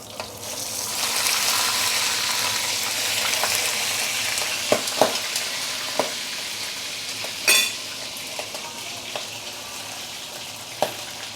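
Fish deep frying in a stainless steel wok, a steady loud bubbling sizzle with occasional scraping taps and one louder spatter.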